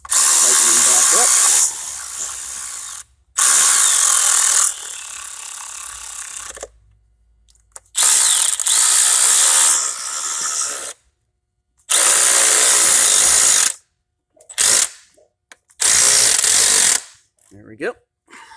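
A ratchet tightens the ignition coil bolts on a modern car with a misfire, heard as about five loud, close bursts of rapid clicking separated by short pauses, then a few quicker, choppier bursts.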